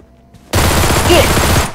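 Sudden burst of rapid gunfire erupts in an online multiplayer shooter match, loud and dense after a quiet start, rattling like sustained automatic fire for over a second.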